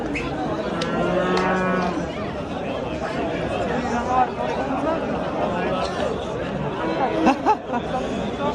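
An ox moos at a busy livestock market, one long low call rising over constant crowd chatter and nearby voices, with other livestock noise in the background.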